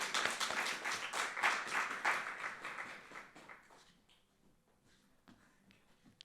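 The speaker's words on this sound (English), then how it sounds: "can we get a big round of applause for our first reader" An audience at a poetry open mic breaks into lively applause for the first reader, loud and dense for about three seconds before thinning to scattered claps and fading into quiet, with a few last isolated claps.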